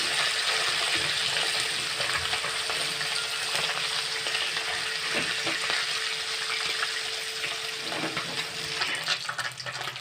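Small mourala fish fry in hot oil, a continuous close crackling sizzle with occasional stirring clinks and scrapes, steady throughout with a few louder bursts near the end.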